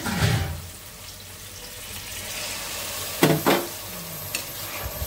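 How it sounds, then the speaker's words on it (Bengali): Spice paste cooks down with a little water in a pan, sizzling and hissing steadily with wet bubbling, while a spoon scrapes and stirs in a couple of brief bursts. "একটু পানি দিয়ে মশলাটা কষানোর জন্য।"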